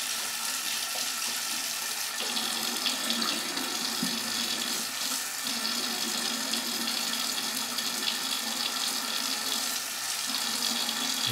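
Tap water runs steadily into a sink while a printed circuit board toner transfer soaks, a constant close rushing splash for about eleven seconds with no talking.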